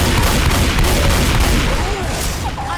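Dense, loud gunfire and booming blasts from a Left 4 Dead 2 zombie-survival match fill the whole stretch as a continuous barrage with no pauses.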